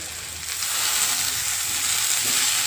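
Ghevda beans with coriander powder and spices sautéing in a hot pan, giving a loud, steady hissing sizzle that swells slightly after the first half second and holds without pause.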